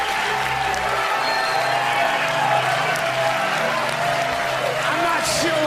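Sustained applause from a crowd at the end of a stand-up comedy show, dense clapping with some cheering mixed in, steady and loud throughout.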